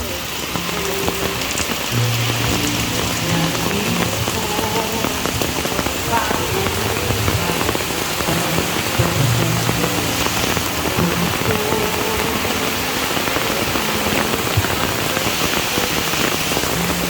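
Heavy rain pours down in a steady, dense roar, drumming on surfaces without a break.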